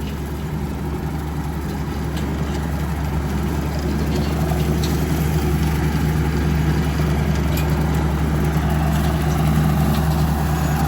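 A tractor pulling a cutter labours uphill, its engine a steady, close low drone with a constant mechanical hum and no pauses.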